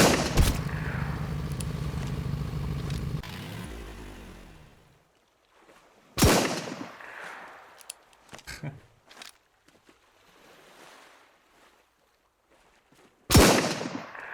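Gunfire while sniping in the SunkenLand video game, sharp loud single shots spaced several seconds apart, each with a ringing tail, plus scattered smaller clicks and thuds between them.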